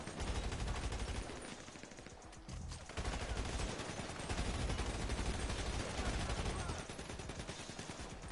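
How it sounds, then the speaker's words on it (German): Dense, sustained automatic gunfire from a GTA shootout, rapid volleys nearly nonstop with a brief lull around the middle, loud and close under occasional speech. "Wieso schießt der genau auf mich?"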